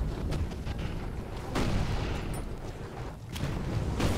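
Gunfire and artillery roll from a zeppelin armed with guns on both sides in the Toy Soldiers video game. Loud, dense booms and bursts follow one another in an almost continuous battle din.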